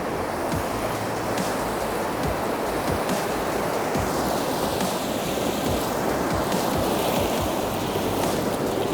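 A mountain river in Kumrat Valley, Pakistan, rushes along close by, its steady, dense roar of churning water filling the whole stretch without pause.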